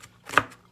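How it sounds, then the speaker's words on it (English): A single knife chop on a cutting board while making chicken Alfredo, one short crisp strike near the middle of a brief, quiet moment with no talk. "I just start chopping."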